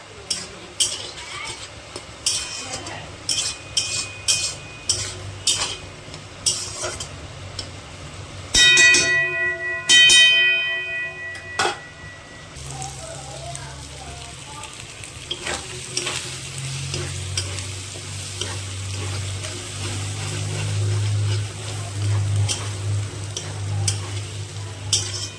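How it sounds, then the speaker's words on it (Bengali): Fish roe is stirred and fried in a pan: a metal spoon scrapes and clinks in quick repeated strokes, then a sustained close sizzle builds steadily and fills the later half. "এটাকে ভালো করে ভাজা ভাজা করে নিতে হবে"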